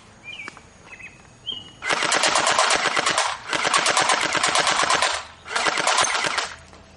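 Hailstorm BB gun firing on full auto in three rapid bursts, a dense rattling stream of shots loud and close, with a few faint clicks and chirps before the first burst.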